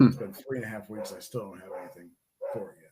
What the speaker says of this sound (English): Apologize for the dogs in the background. They saw an Amazon truck or